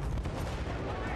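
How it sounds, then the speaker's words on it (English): A single booming gunshot in Battlefield Bad Company 2 Vietnam, heavy and close, with a rumbling tail that fills the whole brief moment and no voices over it. "it looks like I shoot that guy's head apart"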